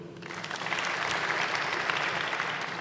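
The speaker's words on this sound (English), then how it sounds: "Clap for them" An audience claps for graduates of a tech skills program cohort at a graduation ceremony, a steady wash of applause that swells slightly and holds without a break.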